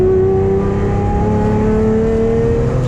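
A Lamborghini accelerates flat out on the Nürburgring, its engine note a loud, sustained tonal wail rising steadily in pitch, close and continuous with no talk over it.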